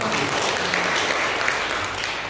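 A church congregation applauds during a Sunday service, a loud unbroken wash of clapping that holds steady throughout.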